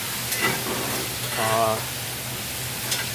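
Tofu and vegetables sizzle in a hot pan with a steady, hissing crackle, with a few soft clinks and scrapes in the middle.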